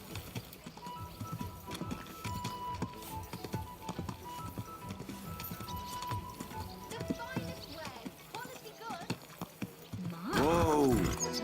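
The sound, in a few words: horse hooves trotting, from a video game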